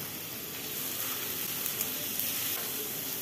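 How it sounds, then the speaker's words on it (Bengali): Chopped tomatoes hitting hot oil with ginger in a pan for a tomato, date and mango leather chutney, a loud continuous hissing sizzle with no break, close and dense. "আদার কাঁচা গন্ধটা চলে যাওয়ার পর তারপর এর মধ্যে কেটে রাখা টমেটোগুলোকে দিয়ে দিচ্ছি।"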